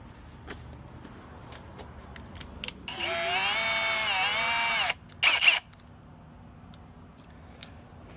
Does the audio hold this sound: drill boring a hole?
yes